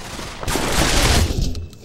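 A loud, dense burst of rapid gunfire from a Pavlov VR gun game match, shots blurring together into a continuous roar at close range for over a second before cutting off.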